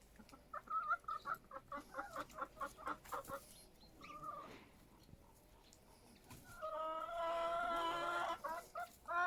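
Backyard chickens clucking close by while being fed grain and cottage cheese, a string of rhythmic short clucks, a quieter pause, then a louder burst of overlapping squawking calls.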